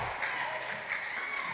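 A church congregation applauds together during a Sunday miracle service, a steady, dense wash of clapping filling the room throughout, fairly loud and continuous with a faint crowd murmur underneath.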